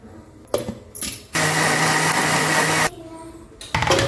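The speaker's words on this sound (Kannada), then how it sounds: "ಇದನ್ನು ಗ್ರೈಂಡ್ ಮಾಡೋಕ್ಕೆ ಕೇವಲ ಒಂದು 2 ಸೆಕೆಂಡ್ ಇದ್ದರೆ ಸಾಕು" A kitchen mixer grinder blends tomatoes with a little tamarind in one loud, steady whirring burst of about a second and a half. Clatter and talking come before and after it.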